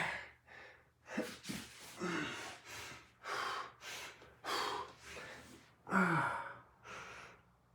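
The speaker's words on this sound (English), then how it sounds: "I know the breathing's not perfect" Audible breaths taken during a yoga stretch for tension release: a series of about ten close, airy inhales and exhales in an uneven rhythm, some sharp like gasps or sighs, with no talking.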